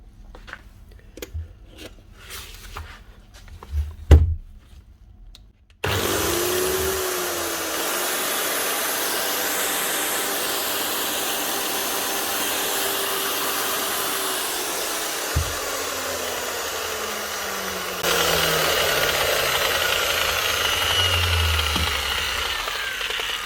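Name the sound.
old Makita 9069 9-inch angle grinder running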